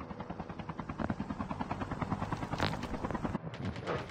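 Helicopter in a video game passes overhead, a steady chopping rotor drone mixed with bursts of gunfire, loud and continuous throughout.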